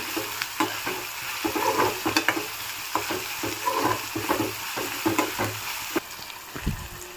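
Washed, dried mettallu (small dry fish) fry in hot oil with a steady sizzle, punctuated by irregular scraping and clinking as they are stirred in the pan, close and moderately loud, with no voices.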